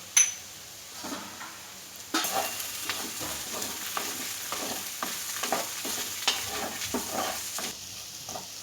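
Potatoes sizzle in a hot pan with spices while a utensil scrapes and stirs in steady, irregular strokes, close up, with no talking.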